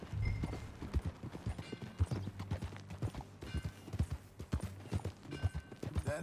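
Horse hooves clip-clop at a steady riding pace on a trail in the Western video game Red Dead Redemption 2, with a rhythmic, fairly close thudding gait, faint tack rattle and a low background hum.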